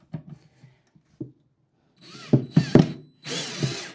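A power drill drives screws into an IKEA Besta cabinet, first some light clicks and taps, then short whirring bursts with the motor bogging as screws seat, ending in a longer spin.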